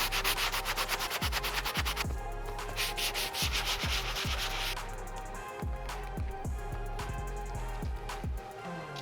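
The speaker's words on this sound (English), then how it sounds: "I'm gonna go back to the medium bristle brush, give this a good scrub before we put it in the wash." Medium bristle brush scrubbing a sneaker insole, a loud, close, rhythmic rasping with quick back-and-forth strokes that continue steadily without talk.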